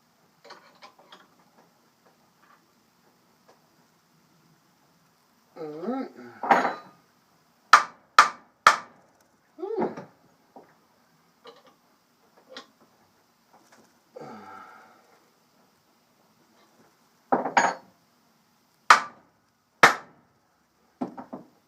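A hammer taps a flywheel puller on a Johnson Sea Horse outboard motor: sharp, ringing metallic strikes in short clusters with pauses between, close and clear, with a brief stretch of voice in between.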